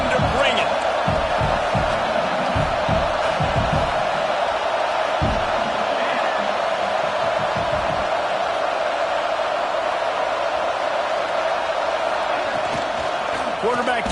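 A packed college football stadium crowd at a Washington vs LSU game roars in a sustained, steady wall of noise, with a commentator talking over it.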